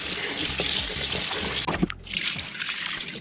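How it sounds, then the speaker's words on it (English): Two pounds of raw head-on shrimp are washed with lime and water, giving a close, steady splashing and trickling of liquid with a brief pause midway. "Now I'm gonna use 1 large lime to wash the shrimp."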